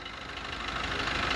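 Maruti Suzuki Brezza diesel engine running steadily after a timing adjustment during a major service, a close, even mechanical clatter with a slight rise in level, no talk.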